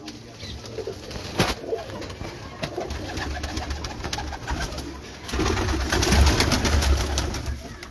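Jaunsre breeder pigeons on a Lahore rooftop coo in soft, repeated low calls, close by, with wing flutters and rustling; the cooing grows fuller and louder toward the end over faint background noise.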